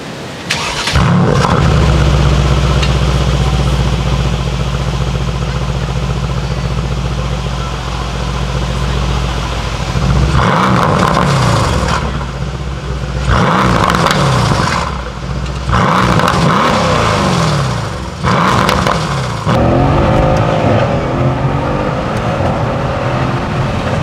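A Mercedes-AMG M177 twin-turbo V8 starts with a loud crank and settles into a deep, steady idle, then sharp revving bursts climb and fall repeatedly, close and dominant with no talk.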